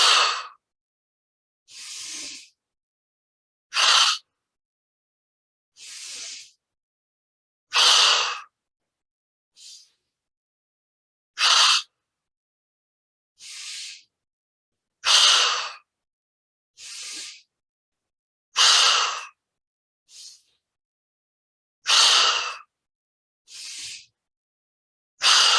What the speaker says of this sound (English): we inhale deep, expand your stomach and blow